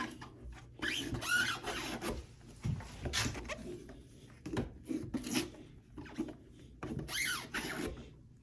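A Moerman 6-inch zero-detail squeegee channel on an Unger handle wipes across small French-pane window glass, giving repeated short rasping squeaks and rubbing strokes in quick bursts, close and fairly clear, with no talking.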